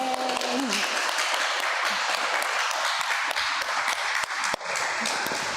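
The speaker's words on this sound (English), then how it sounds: "Big welcome to North Carolina for Reverend Song. Big applause." Dense, sustained applause from a large audience at a Sunday Buddhist service, loud and continuous, with some cheering mixed in.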